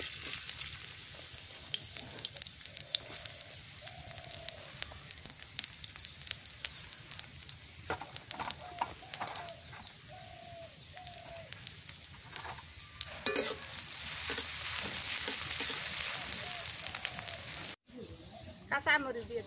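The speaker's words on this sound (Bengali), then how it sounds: "পেঁয়াজ দিয়ে দিই।" Onions frying in hot oil in a pan give a faint, steady sizzle with soft crackles and occasional stirring clatter, heard close and quiet, with a voice speaking over it at times.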